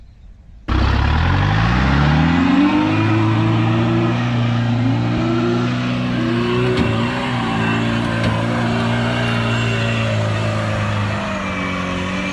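A 2022 Jeep Wrangler Rubicon's engine starts abruptly and climbs through revs, then holds a loud, steady, close drone while off-roading, with a few bumps and clunks over it.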